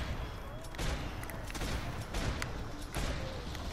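Dense gunfire from Max Payne 3 at a harbour: a rapid, continuous volley of shots with a few sharper cracks. It sounds loud and busy throughout, with faint game ambience and no speech.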